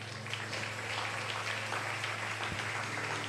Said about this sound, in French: Acclamez pour la servante de Dieu